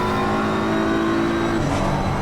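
BMW and Porsche race cars battling at Oulton Park, engines roaring loud and close in a steady, continuous drone with a rising pitch as they push through.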